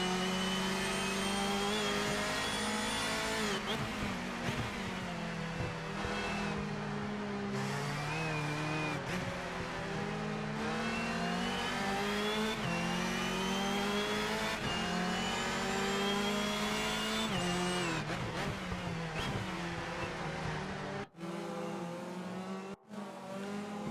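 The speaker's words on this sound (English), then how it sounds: "Listen to the 4-cylinder turbo motor." A 4-cylinder turbo engine in a Hyundai Elantra front-wheel-drive race car in the RENNSPORT racing game at Orchard Road: steady loud onboard engine drone rising in pitch through the gears, with shifts between climbs and brief drops near the end.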